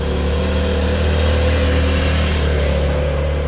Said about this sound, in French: Ouh, on a une petite Porsche 992.